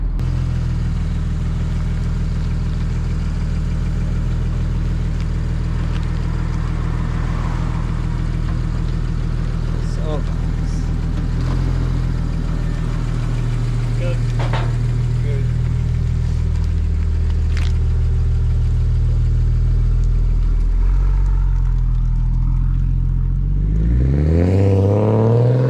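Turbocharged Nissan R32 GTR engine running steadily with a low, even drone, its pitch rising sharply near the end in a rev; close and loud throughout, with no talk.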